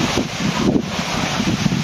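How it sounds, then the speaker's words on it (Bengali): Rain and strong wind outdoors by a roadside shop make a dense, continuous rushing roar as gusts buffet close by with little letup. No voices are heard. "এখন বাইরে কি পরিমাণ বৃষ্টি আর বাতাস হচ্ছে।"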